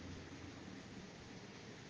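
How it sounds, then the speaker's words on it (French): Steady rain falling outdoors, a dense continuous hiss filling the scene without pause, loud and close with no voices over it. "Maintenant, là, il pleut."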